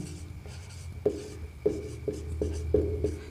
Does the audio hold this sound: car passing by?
no